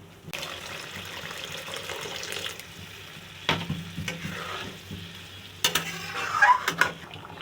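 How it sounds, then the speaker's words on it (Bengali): A pan of sizzling, stirred egg tadka masala, with water poured in producing a louder hissing surge and splashing near the end, close-up and without speech. "কষিয়ে নিয়েছি, এবারে দেবো জল।"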